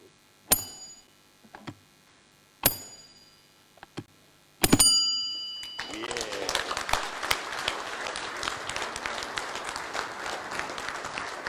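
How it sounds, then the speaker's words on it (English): Three or four sharp rings of a bell sound at a South Pacific Stock Exchange listing ceremony, each decaying quickly. Sustained applause from the gathered audience then follows and continues to the end. "may I request for you to please ring the bell"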